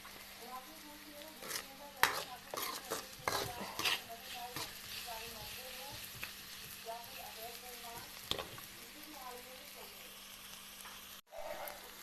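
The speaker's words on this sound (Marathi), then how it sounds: "मस्त फ्राय करून घेणार आहे आता हे" Vegetables, with potato to follow, frying and being stirred in a home kitchen pan, a steady crackling sizzle broken by several sharp spoon-scrapes and clinks, with someone speaking quietly over it.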